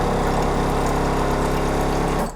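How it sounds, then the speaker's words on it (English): Refrigerator water line with a newly installed replacement filter, giving a loud, steady mechanical hum and buzz with a rapid pulsing rattle, continuous throughout before cutting off abruptly at the end. "And I get the hammering sound."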